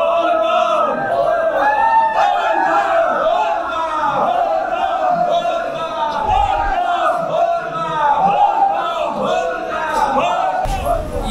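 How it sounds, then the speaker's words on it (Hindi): A large crowd of pilgrims at Deoghar Baba Dham temple, a dense roar of many voices shouting and chanting continuously, loud and close throughout. "भीड़ में से जाते हुए जैसे जैसे मंदिर के करीब हम लोग पहुंच रहे थे"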